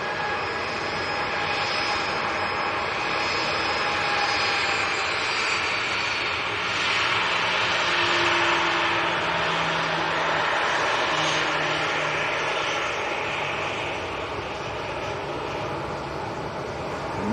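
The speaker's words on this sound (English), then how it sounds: "Ryanair to Dublin, 737-800." A Ryanair Boeing 737-800 jet airliner roars steadily at an airport, a broad sustained engine rumble that swells slightly mid-pass and stays loud throughout without speech.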